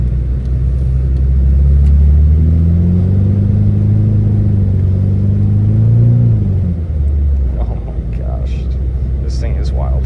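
A Mitsubishi Eclipse pulls away after a cold start in freezing weather, its engine rumbling loudly and steadily as it accelerates, then easing off near the end, with a voice speaking over the drive.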